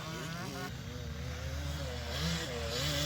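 Kids' motocross bikes race on a dirt cross-country and motocross track, sending out overlapping engine whines that rise and fall in pitch as the riders accelerate, with a steady mid-distance drone.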